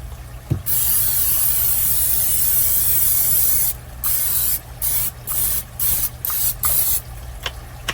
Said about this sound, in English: you want to spray your baking dish